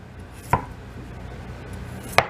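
Knife chopping ginger and vegetables for chicken noodle soup with napa cabbage: two sharp, close chops about a second and a half apart over a quiet room.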